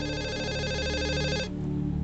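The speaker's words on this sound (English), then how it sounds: "when the phone rang" A telephone rings steadily with a bright, electronic warbling tone, loud and close, cutting off abruptly partway through, with no voices.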